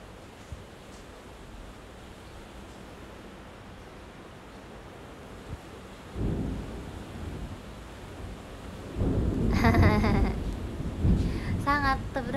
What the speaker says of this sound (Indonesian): Sangat terdengar suara hujan.